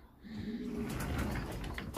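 Breeding stock pigeons coo in low, soft rolling murmurs, steady and close, with a few faint rustles and a brief bump at the end.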